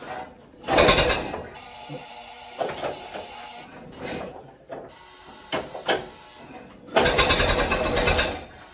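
A 1927 Ford Model T engine cranks and catches in loud bursts with mechanical clatter, ratcheting and short pauses between attempts, close by with no talking.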